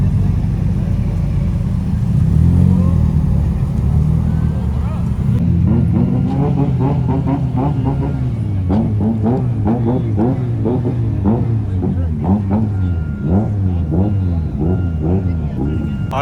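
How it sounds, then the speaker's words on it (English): Drift car engines revving at a nighttime car meet, a loud continuous low rumble with bursts of rising and falling revs, heard under someone talking through most of it. "It is just like pure engines tonight."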